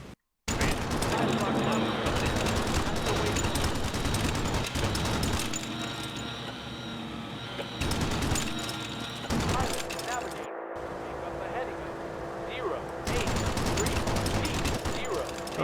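Machine guns from a B-17 ball turret rattle in bursts in a World War II bomber video game, dense sustained fire over steady engine drone with brief gaps, talk mixed in.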